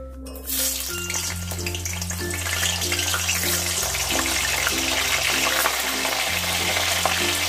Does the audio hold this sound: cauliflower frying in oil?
yes